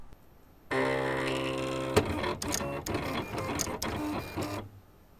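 A vinyl cutting machine runs a test cut on heat transfer vinyl: a steady motor whir starts abruptly, then gives way to quick clicking and stepping sounds before stopping.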